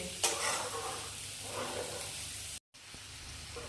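Boiled potato filling for Mughlai paratha being stirred and mixed with spices and a little water, a soft, steady, close scraping and squishing texture that continues throughout with a brief dropout near the end.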